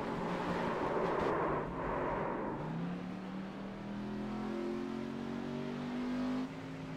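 Race car engine revving hard from an onboard camera during a stock car race on an oval with a tri-oval, a steady loud drone with rising pitch as the car accelerates, continuous throughout.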